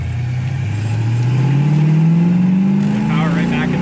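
A 1967 Ford Mustang accelerating hard, its engine note climbing steadily in pitch as it pulls, loud and close from a cabin perspective, with faint background noise and no speech.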